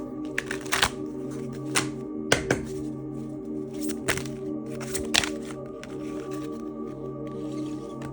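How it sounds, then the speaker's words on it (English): Tarot cards are shuffled with quick riffling bursts and soft slaps, a few sharper snaps standing out against a low background hum. "One more shuffle here."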